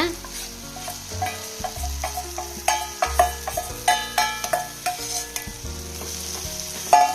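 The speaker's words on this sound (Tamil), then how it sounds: "எண்ணெயிலேயே வணக்கணுங்க, அப்போ தான் ரொம்ப நல்லா டேஸ்ட்டாக இருக்கும்" Dried fish, already fried, is stirred and sautéed in hot oil in a pan, giving steady sizzling with repeated scraping stir strokes in a rhythmic series, close and fairly loud, with no talking.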